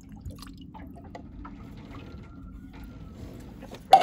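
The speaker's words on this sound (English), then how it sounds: "I'm just going to pour it in" Diesel fuel poured into a Yanmar marine diesel engine during a top-end rebuild, a low, steady trickle and gurgle with faint drips, ending in a sudden louder splash or clunk close by.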